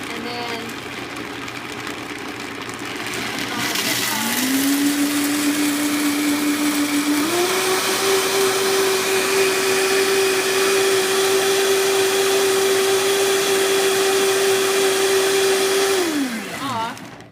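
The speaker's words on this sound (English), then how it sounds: "Then you turn it to low. On. Blend it up there a little bit." A Vitamix blender whirs through raw cashew waffle batter, starting at a low speed and stepping up to a higher steady roar for about twelve seconds before spinning down. No one speaks.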